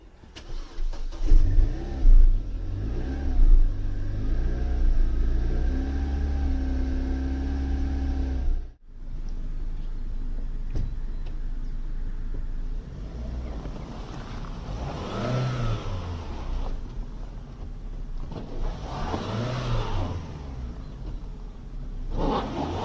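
A Vauxhall Vectra B CDX car cranks and starts on a cold morning, then idles steadily with a brief cut and restart partway through, followed by a few gentle revs, loud and close throughout with no talking.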